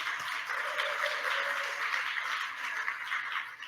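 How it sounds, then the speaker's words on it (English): An audience at a Chattahoochee Riverkeeper river event applauds in a dense, steady wash of many hands clapping at once. The sound stays even and sustained, with no talking over it. "And that deserves an applause"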